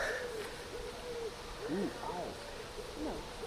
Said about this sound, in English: What is that? It's a pigeon.